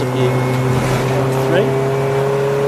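Race car engine drone at Silverstone during a 750 Motor Club Birkett Relay, John Copperton's BMW with a rubbing tyre among the field, steady tonal whine with a brief pitch sweep, loud and close, with no one talking.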